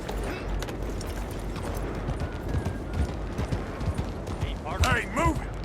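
A horse gallops in Red Dead Redemption 2, with steady hoofbeats running under the ambient game sound and raised voices calling out near the end.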